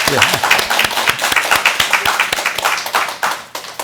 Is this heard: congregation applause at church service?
yes